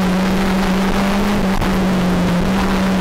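Stock hatch racing cars run close together around the Anglesey circuit, a loud, continuous engine drone holding a steady pitch for several seconds, with no voices.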